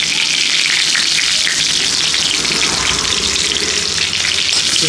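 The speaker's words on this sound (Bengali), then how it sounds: "তেজপাতা ভেজে নিই।" Bay leaves frying in hot oil in a pan where prawns are being fried, giving a loud, steady, close sizzle with a bright, hissing crackle that carries evenly throughout.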